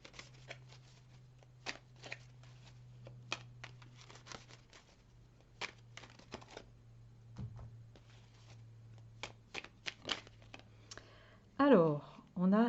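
Tarot cards are shuffled and handled up close, giving a run of soft irregular clicks and riffling snaps under a steady low hum, ending in a louder burst where a voice speaks.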